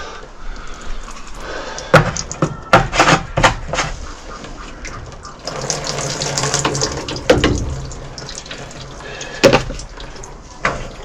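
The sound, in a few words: water spraying from a hose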